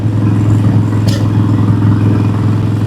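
A Harley-Davidson Sportster engine drones steadily at cruising speed on a quiet road, a loud, deep, even rumble with a brief clatter partway through.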